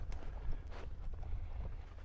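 A horse walks near the Great Pyramids of Egypt, giving soft, steady clip-clop hoofbeats over faint low wind rumble, with no talk during the clip.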